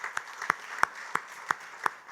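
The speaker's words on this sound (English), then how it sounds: "just clap for these clinicians" A few scattered, evenly spaced claps ring out in a conference hall during a healthcare panel, six sharp distinct hits at a steady rhythm, fairly faint and sparse rather than full applause.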